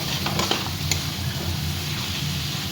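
Garlic, ginger and green chillies sizzling in hot oil in a pressure-cooker pot while mutton is being prepared, a steady frying hiss with small crackles, no voices.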